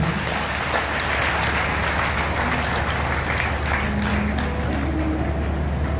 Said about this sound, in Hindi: ताली बजा के स्वागत करेंगे सभी